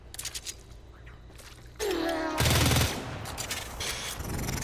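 Rapid bursts of automatic fire from a Prime rifle in a shooter video game, a dense crackling stream of shots in two loud clusters amid quieter game effects, with no talking.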